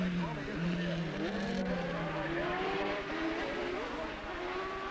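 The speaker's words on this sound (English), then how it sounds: "there's Rodger Freeth on the Macintosh Suzuki up into third position now" Racing motorcycles, including a Suzuki GSXR and a stock production bike, roar past during a 1985 road race at Hamilton, their engines loud and rising in pitch over steady crowd noise and a commentator talking.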